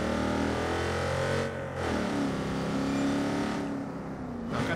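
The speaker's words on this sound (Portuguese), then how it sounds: "Caraca, que carro barulhento" A loud car engine in the video game Watch Dogs 2 drones steadily, rising and shifting in pitch as the vehicle drives, filling the whole stretch without speech.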